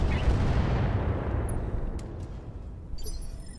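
Heavy mech weapons fire in the video game Roguetech, a booming low blast that rumbles and decays over a few seconds, followed by a sharp crackle near the end.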